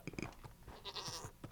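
Goats in Minecraft bleat in quick wavering calls, a few overlapping cries bunched together, quiet and close.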